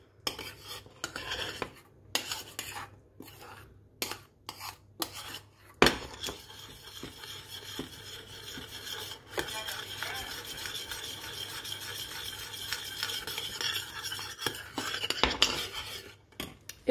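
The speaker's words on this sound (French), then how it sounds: "Je vais mélanger tout ça à la sauce." Utensil scraping and clinking against a pan while duck breast is stirred into a honey sauce, a steady run of metallic taps and rubbing, busier in the second half.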